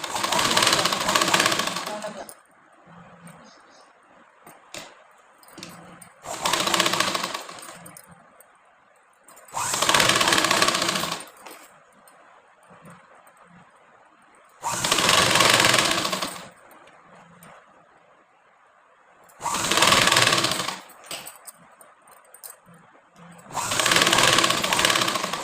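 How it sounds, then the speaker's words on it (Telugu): A sewing machine stitches a blouse in six loud, rapid whirring bursts of a few seconds each, separated by quieter pauses with faint handling noises. "ఫస్ట్ స్టిచ్చింగ్ చేస్తున్నాను"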